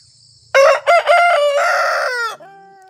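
A single rooster crows loudly and close by, one full drawn-out call, followed by a faint trailing cluck.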